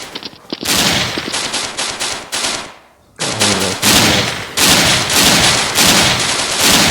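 Heavy gunfire from the Special Forces Group 2 shooter game, loud rapid automatic bursts rattling almost continuously, with one short pause in the middle before firing resumes.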